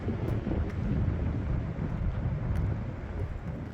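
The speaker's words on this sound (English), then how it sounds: "you can hear that wind going through those cottonwoods. It's blowing all the leaves off." Strong wind roars steadily through cottonwood trees at a historic fort, a continuous broadband rushing with gusty swells and some microphone buffeting, loud and close with no talking.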